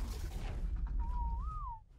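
A single wavering whistle tone in ARK: Survival Evolved rises and dips briefly over a low rumbling game background, faint and short.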